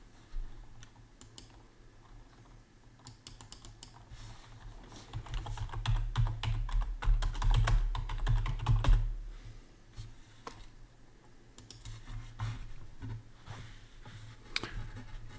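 Fingers typing on a computer keyboard in quick irregular bursts of clicks, moderately close, with a denser stretch in the middle and no one talking.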